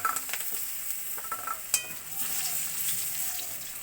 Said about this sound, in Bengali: এবার ওই একই তেলে আলুটা ভেজে নেব আমি।